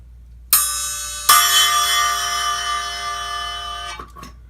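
A single bell-like cymbal of Asian style, struck twice in quick succession, rings out loud and bright with a long shimmering sustain that decays over a few seconds, followed by a faint muffled touch.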